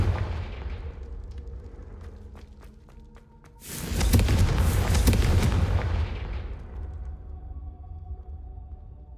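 A Confringo explosive spell in Hogwarts Legacy goes off as a heavy boom with a long rumbling tail, after a few sharp clicks and thuds of game action, with no voices over it.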